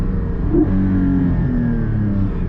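Porsche Cayman GT4 PDK sports car engine revving hard close up, a loud deep roar climbing in pitch and then holding, heard alone with no voices.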